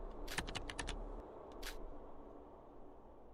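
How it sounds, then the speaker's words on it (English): Typing on an iPad as a video game sound effect in Super Danganronpa Another 2: a quick run of crisp key taps early on, then a short second burst, over a low steady background hum. "Kokoto was typing letters on her iPad"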